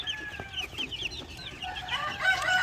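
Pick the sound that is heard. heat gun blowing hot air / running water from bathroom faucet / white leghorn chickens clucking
white leghorn chickens clucking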